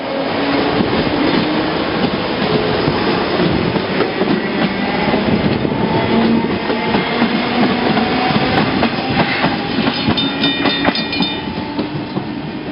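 Old Capital Connection commuter coaches rolling along rails, a steady loud rumble with rhythmic clickety-clack of wheels over joints and occasional squeal, continuous throughout.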